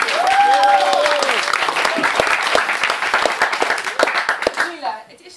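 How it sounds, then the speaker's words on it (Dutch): Theatre audience at an improv comedy show in Nijmegen breaks into loud, sustained applause with cheering and whistles, the clapping thinning out and fading toward the end. "ik hoor ook het applaus"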